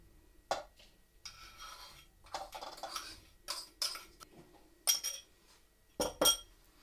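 Eggs, sour cream and crushed yeast being whisked together in a bowl, with quiet scraping strokes and sharp clinks of the utensil against the rim in uneven bursts, close and alone.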